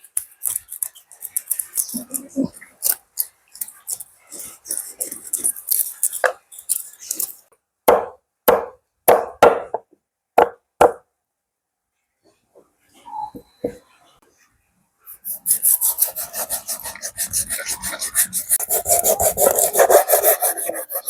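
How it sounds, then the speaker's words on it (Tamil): A knife scrapes scales off a fish in quick rhythmic strokes, close and loud. Each stroke is a sharp rasp, followed by a brief pause and then a dense stretch of rapid scraping. "அதில் வந்து நாங்கள் மீனை வெட்டுவோம் அதில் இப்படி ஒரு உள்ள கத்தியால் இந்த செதில எடுப்போம்"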